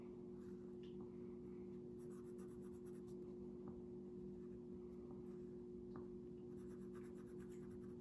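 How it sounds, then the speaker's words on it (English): Marker or pen drawing eyes on paper for a Picasso-style art lesson, a faint steady scratching of strokes over a constant low electrical hum, with no talking. "we're gonna draw Miss Aubrey's eyes big and blue"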